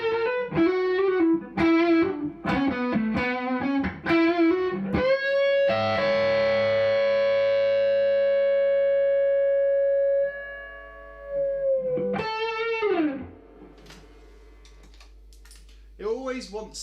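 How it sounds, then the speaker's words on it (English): Electric guitar through an overdrive distortion pedal, a quick run of saturated notes followed by a long sustained chord that rings and fades, then a short bent phrase near the end, played alone and up close. "So just using that distortion bit."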